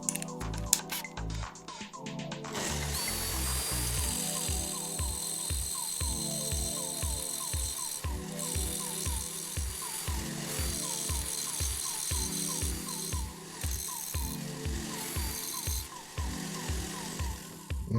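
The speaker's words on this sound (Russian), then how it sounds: "моя цель сточить вот эти грани самого сверла" An old drill bit being ground into an awl, a steady mechanical whir with a rapid regular pulsing rattle running throughout, close and continuous, with no talk.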